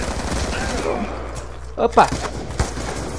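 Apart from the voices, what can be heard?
gunfire in video game Call of Duty Black Ops II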